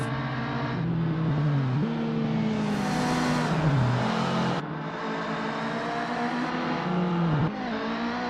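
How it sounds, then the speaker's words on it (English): A Volkswagen Golf Mk1 race car in the Assetto Corsa sim racing game, its engine droning loudly and steadily with rising and falling revs and repeated gear-change dips, no voices over it. "The rumble of the engine"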